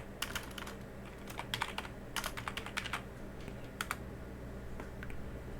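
Quiet keys clatter on a computer keyboard in quick, uneven bursts of clicks, faint but close against a soft background hum.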